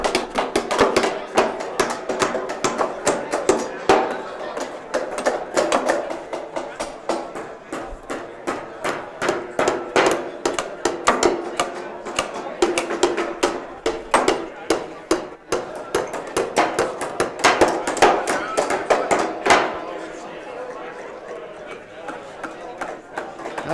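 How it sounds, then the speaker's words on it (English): Rapid, steady hammering of nails during a timed framing competition for a wooden permanent wood foundation wall, with many sharp, closely spaced blows continuing for about twenty seconds and people talking underneath. "You have to use your hammer maybe and get that in there."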